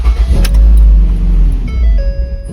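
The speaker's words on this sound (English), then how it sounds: "Now let's start the car." A Ford Escape cranking and catching, a loud close engine start with a low rumble and a thin whine of the fuel pump running underneath, lasting a couple of seconds.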